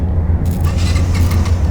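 A car engine in the video game H1Z1 rumbles low and steady, a loud, close droning hum with some rattling noise layered above it.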